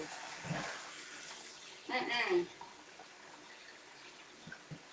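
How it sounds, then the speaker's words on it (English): Potatoes rinsed under running tap water in a kitchen, a brief splashing burst of flow in the middle of a quiet stretch, with faint voices nearby. "Now we're gonna rinse these off."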